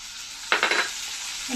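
A spoon stirs gourd curry with turmeric, coriander and spices in a hot pan, giving a brief burst of scraping and sizzling that fades back to a quiet background.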